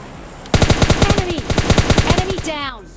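Rapid bursts of automatic gunfire from a battle royale video game, about a dozen sharp shots fired in quick succession, loud and close, followed by a brief ricochet-like trailing sound.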